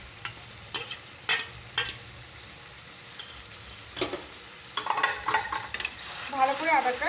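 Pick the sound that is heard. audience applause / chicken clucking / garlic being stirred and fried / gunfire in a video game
garlic being stirred and fried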